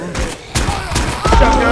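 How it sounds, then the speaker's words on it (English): Shotgun blasts in the How To Survive video game, several loud, close booms in quick succession amid game noise, ending in a sustained rumble. "Shotgun!"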